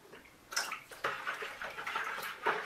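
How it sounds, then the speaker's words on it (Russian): Liquid carpet cleaner poured into a liter of warm water, a soft wet splashing and trickling that rises in a few brief bursts, fairly quiet and close. "здесь у меня 1 литр теплой воды и добавляю 2 столовые ложки средства"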